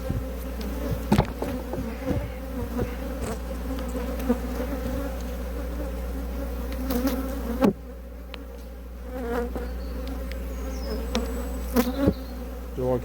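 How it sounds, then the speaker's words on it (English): Honeybees swarm around an open hive at an apiary, a dense continuous buzz up close. Occasional clicks and knocks sound over the drone of many wings. "There's bees everywhere."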